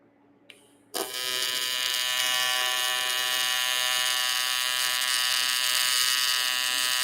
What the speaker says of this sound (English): I'm doing a fillet weld wrapping around this corner.